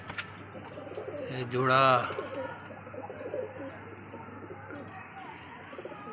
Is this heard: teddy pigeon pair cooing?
yes